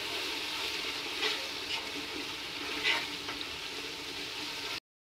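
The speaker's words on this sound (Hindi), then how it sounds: "3 टेबलस्पून लाल मिर्च पाउडर ऐड करेंगे और अच्छी तरह इसकी भुनाई करेंगे" Beef with red chili powder frying in a pan for kachnar gosht, a steady close sizzle with occasional stirring scrapes, cutting off abruptly near the end.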